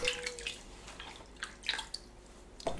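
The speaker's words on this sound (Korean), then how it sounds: "물에 헹굽니다." Sliced potatoes are rinsed in water, giving soft splashes, drips and sloshing, quiet and close, with no voices.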